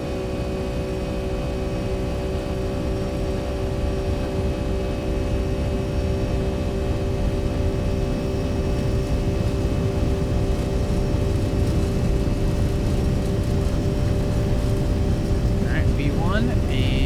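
A Boeing 757-300 on its takeoff roll from a 4,000-foot-elevation airport in the X-Plane 12 flight simulator, a steady engine drone with a constant whine running the whole time.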